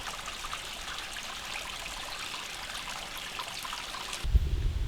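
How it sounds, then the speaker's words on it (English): A forest stream gurgles and trickles steadily at close range, a continuous bright burble of running water, with a brief low rumble of wind or handling at the very end. "this stream, which you can hear gurgling behind me"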